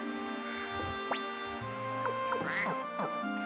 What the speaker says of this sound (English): Quack.